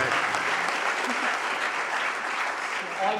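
An audience at a science comedy show in Brisbane breaks into loud, sustained applause that fills the hall, with a voice briefly heard over the clapping.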